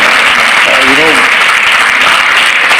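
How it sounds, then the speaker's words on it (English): A large audience at the Amway India Leadership Summit applauds and cheers in a dense, continuous roar that fills the hall, with a voice heard briefly under it. "I would like to have all of you please give a big cheer to yourself and to Michael for coming to India."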